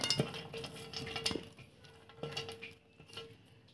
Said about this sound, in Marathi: हे सर्व पदार्थ ह्याच्यात मिक्स करून घेऊया